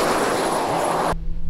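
A loud, steady jet engine roar with a high whine from a jet-powered go-kart on a racetrack, cutting off abruptly near the end and leaving a low rumble.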